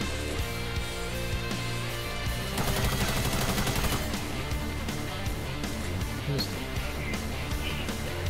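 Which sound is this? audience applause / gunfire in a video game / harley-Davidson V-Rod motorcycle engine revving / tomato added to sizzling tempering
gunfire in a video game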